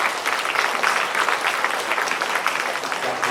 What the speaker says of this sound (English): Yes, you can clap for sir.